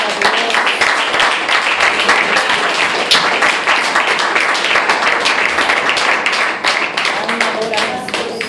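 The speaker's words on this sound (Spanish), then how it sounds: "Dale un aplauso a Cristo." A church congregation claps loudly and continuously during an evangelical sermon, with dense, steady applause filling the room, voices and shouts mixed in throughout.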